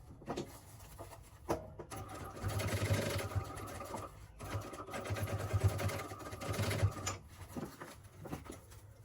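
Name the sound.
sewing machine stitching with backstitch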